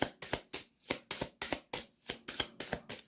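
Tarot cards shuffled by hand in a quick, steady rhythm of about ten crisp riffling bursts, close and fairly loud with no talking.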